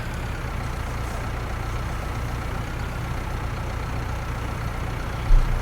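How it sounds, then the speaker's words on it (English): A tractor carrying an oversized mower in Farming Simulator 19 drones with a steady low engine hum, constant and close. A small bump is heard near the end. "there she is with the oversized mower"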